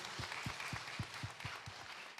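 A church congregation claps together during a Friday worship service, giving a faint, evenly spaced run of about eight slow claps under a soft room hiss.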